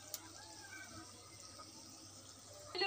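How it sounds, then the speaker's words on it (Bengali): Broth is poured into a pan of cooking bhuna pangas fish, a faint steady trickle of liquid that swells slightly louder near the end. "এখন অল্প পরিমাণ ঝোল দিয়ে দিব।"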